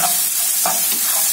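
Thinly sliced onions frying in a pan, a loud close sizzle with quick stirring scrapes, alone and without talk.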